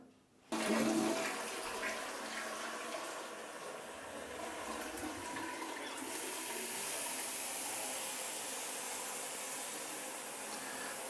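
Water runs from a tap into a sink with a slow drain during a home inspection in Spain. It makes a steady hissing, rushing stream close by that starts suddenly and carries on with no voices.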